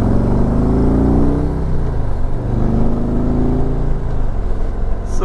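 A lawn tractor engine with its old stock exhaust revs and barks close by, rising and falling in pitch through two or three throttle swells, loud and dominant.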